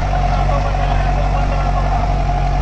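Deutz-Fahr Agrolux 80 HP tractor running in second gear at about 1500 rpm while pulling a 13-tine cultivator, a steady loud engine drone with a low hum throughout, no pauses.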